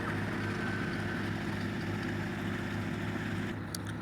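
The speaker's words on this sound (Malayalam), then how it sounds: "ഒരു എൻജിൻ ബോട്ടിൽ ഉള്ള യാത്ര" An engine boat cruises over a calm, waveless sea at sunset, its motor giving a steady, close, low droning hum that runs unbroken and fairly loud throughout.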